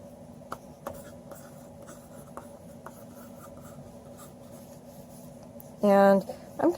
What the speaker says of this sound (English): Always start from the root and draw in the direction the hair goes, but let your pencil or your pen be a little bit more free and wild.